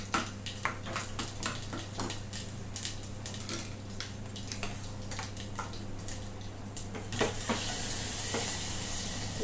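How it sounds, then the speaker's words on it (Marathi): Dal tempering with cumin, mustard seeds, turmeric and asafoetida sizzles steadily in hot oil, with clinks of a metal spoon against the pan and a louder hiss building near the end; no one speaks. "झाली आपल्या डाळीची फोडणी।"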